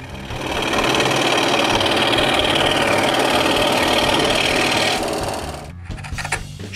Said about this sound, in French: les coupe des trous des queues avec la scie à chantourner